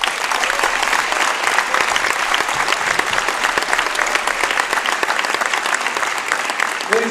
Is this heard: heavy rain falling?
no